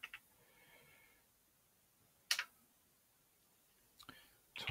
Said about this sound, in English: typing the root password.